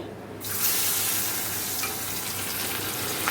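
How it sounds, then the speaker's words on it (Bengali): Small river fish drop into hot oil in a wok, setting off a sharp sizzle that settles into steady, close frying crackle and spatter, with no talk. "এখানে আছে গাং মোড়লা মাছ এটা এখন ভাজা করে নেব"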